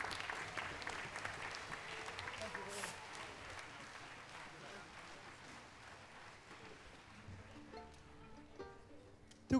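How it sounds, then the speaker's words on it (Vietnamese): Concert hall audience applauding violinist Carmine Lauri, first violin leader with the London Symphony Orchestra in Hanoi, fairly faint and fading, with a few instrument notes sounding near the end. "quý vị có thể vỗ tay to nữa với màn trình diễn cực kỳ điêu luyện của Carmine Lauri"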